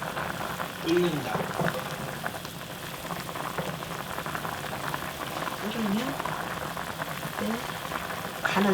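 Bubbling, popping boil from a pot of Korean pork stew with onion, green onion and tofu on the stove, steady throughout, with someone speaking briefly over it.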